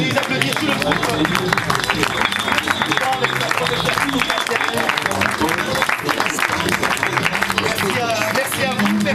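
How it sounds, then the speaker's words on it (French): A live audience applauds a school group in a hall, dense continuous clapping with crowd noise filling the whole stretch at steady loudness. "on peut encore les applaudir tout le groupe"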